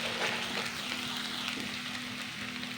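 Ginger and garlic frying in a mix of ghee and oil, a steady close sizzle with fine crackle running throughout, no voices.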